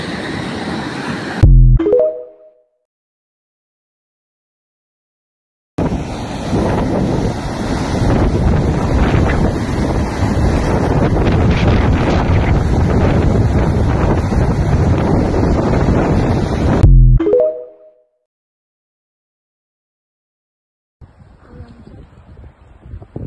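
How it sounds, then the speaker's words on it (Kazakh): Fast floodwater of the Zhem river rushing during the 2024 spring flood near Kulsary, a steady broadband roar thick with wind buffeting the microphone, running for about twelve seconds between silent gaps. "Ағыс дейтін мықты."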